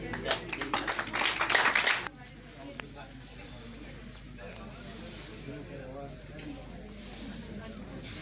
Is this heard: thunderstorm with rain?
no